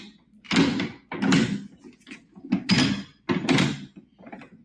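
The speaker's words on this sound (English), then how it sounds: "This is the real deal, this door." A heavy door is worked open and shut several times in a row, each movement a loud, close clunk with a scraping, rattling sweep, separated by short pauses with faint background noise.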